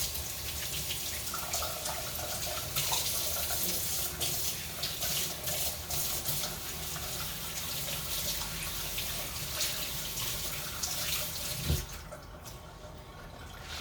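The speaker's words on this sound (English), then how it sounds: "let's wash our hands now" Tap water runs steadily into a kitchen sink during hand washing while making granola, a continuous close hiss with small splashes that cuts off near the end, no talking.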